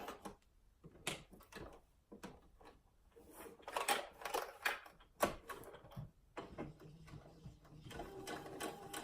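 A sewing machine stitches delicate fabric in irregular bursts of rapid mechanical whirring and clicking, starting and stopping several times, close and moderately loud.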